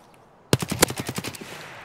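Gunshots in Escape from Tarkov, a sudden rapid burst of about ten loud shots in quick succession after a brief silence, trailing off into echo.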